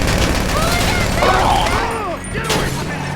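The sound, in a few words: gunfire in video game GTA 5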